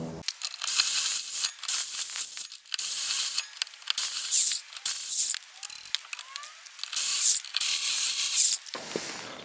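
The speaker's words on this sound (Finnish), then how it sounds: "me kiristetään loppujen lopuksi noin pultit sitten vielä" Car wheel bolts are tightened with a ratcheting tool in a run of clicking bursts broken by short pauses, recorded up close.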